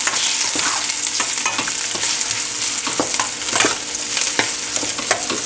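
Chopped onions fry in a pan with a bright, continuous sizzle, while a spoon scrapes through them in quick irregular strokes, close and loud, with no voices.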